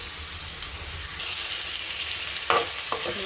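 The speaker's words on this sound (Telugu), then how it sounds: "ఇప్పుడు ఉల్లిపాయలు, కరివేపాకు వేసేసుకుందాము" Onions and curry leaves fry in hot oil in a pan, giving a steady soft sizzle with a few sharper spatters and stirring clicks near the end.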